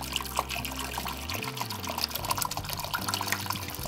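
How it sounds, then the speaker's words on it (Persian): Warm water poured into a pot of lamb shanks, a steady, moderately quiet trickling and splashing stream that continues for several seconds with no talk over it. "مقداری آب بهش اضافه میکنم، آبی که تقریبا گرم هست."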